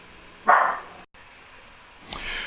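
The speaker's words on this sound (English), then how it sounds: "there goes Sadie barking away." One sharp dog bark nearby, then a brief cut of silence and a fainter second yelp near the end.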